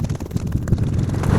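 Wind buffets a microphone outdoors, a rough low rumbling blast that fills the short moment alone, fairly loud and unsteady.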